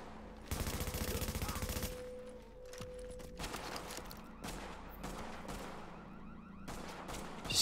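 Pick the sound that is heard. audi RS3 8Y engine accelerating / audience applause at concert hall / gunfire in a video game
gunfire in a video game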